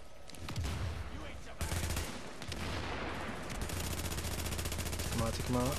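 Rapid gunfire from the shooter game The Division, with bursts of automatic weapon fire running throughout amid game ambience, loud and close; a person talks briefly over it.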